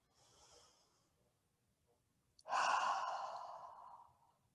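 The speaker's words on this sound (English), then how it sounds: "Take a big breath." A deep breath in and a long exhale during a guided relaxation on a hammock: a faint short inhale, then a loud, breathy exhale lasting nearly two seconds, heard alone and close.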